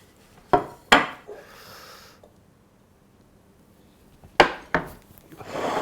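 A warm shallot tarte tatin is turned out of its tin: two sharp knocks of metal and dish against the counter, a brief scrape and rustle, a quiet pause, then another pair of knocks and handling noise, with no talking.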